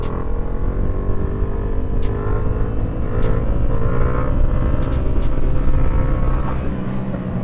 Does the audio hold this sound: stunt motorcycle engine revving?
yes